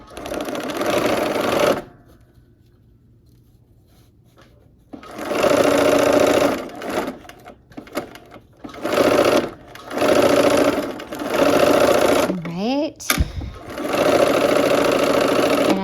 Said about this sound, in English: let's go ahead and sew these